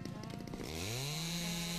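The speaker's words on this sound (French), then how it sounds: "Tronçonneuse." A chainsaw in a house-building video game cutting a log: a rough idling sputter that quickly revs up into a steady, loud, high-pitched buzzing whine.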